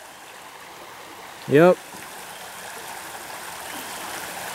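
Water in Frog Creek flows with a soft, steady rushing wash at a distance, broken once by a brief spoken word.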